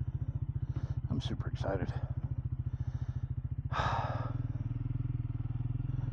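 The single-cylinder engine of a 2024 Triumph Speed 400 motorcycle idles close by with a steady, even thump, while a person speaks briefly over it.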